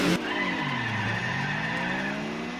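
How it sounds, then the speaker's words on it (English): A 551-horsepower race car in Gran Turismo 4 holds a long, drawn-out engine note through a gear change, with a steady tire squeal and a pitch that sinks and then climbs again, loud and close. "Whoa, that's a long gear change"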